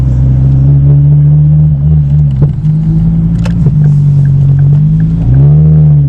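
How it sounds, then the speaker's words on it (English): A tuned five-cylinder engine in a 530 bhp Ford Focus ST revs loudly up close, its tone rising and falling through several throttle blips before climbing again. "the sound of a Yeah. tuned 5-cylinder engine."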